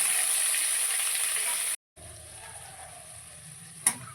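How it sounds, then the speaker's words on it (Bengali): Eggplant pieces fry lightly in oil with a steady, fairly loud hiss that drops out briefly, then returns softer with a single sharp clatter near the end. "এবার এই বেগুনগুলোকে একটু হালকা করে ভেজে নেব।"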